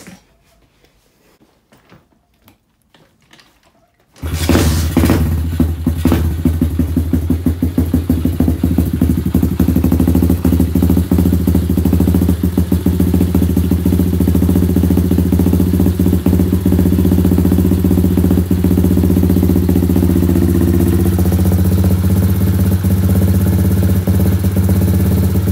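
A dirt bike engine is started for an oil change. After a few seconds of near silence it fires up and settles into a loud, close, steady idle that runs unbroken to the end.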